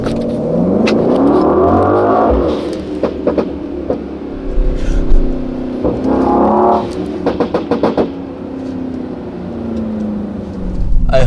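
A 2022 Brabus 900 GLE Coupe, a 900-horsepower tuned Mercedes, revs hard up close, its engine climbing and falling in loud surges, followed by sharp rapid crackles and pops from the exhaust like gunshots.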